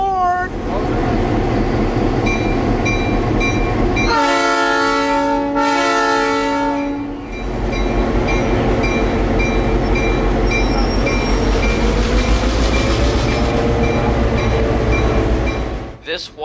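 A CF7 204 diesel locomotive sounds its horn as it pulls away on a heritage railroad, a loud sustained blast over a deep rumbling engine, with a second brief horn tone later and voices nearby.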